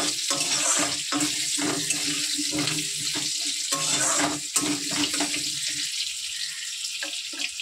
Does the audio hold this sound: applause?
no